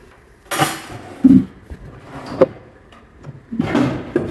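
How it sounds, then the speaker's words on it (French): A kitchen drawer holding forks is slid open and shut, giving a few close, sharp rattles and clinks of metal cutlery with quiet pauses between them. "c'est le tiroir où on trouve des fourchettes"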